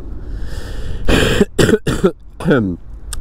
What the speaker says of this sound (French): Je vous tousse à la gueule, mais c'est pas intentionnel